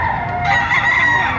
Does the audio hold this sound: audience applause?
no